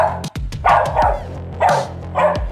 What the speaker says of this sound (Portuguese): Tem cachorro aqui